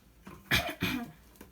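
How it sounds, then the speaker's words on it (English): A person clears their throat twice in a quick pair of rough, close bursts, followed by a faint trailing rasp in an otherwise quiet room. "Had to clear my throat."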